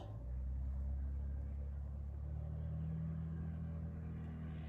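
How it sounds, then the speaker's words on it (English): A loud truck with a straight pipe exhaust rumbles past outdoors, giving a deep, steady, growling drone that holds at a constant level for several seconds with no speech. "Heard a loud truck. Sounds like a straight pipe."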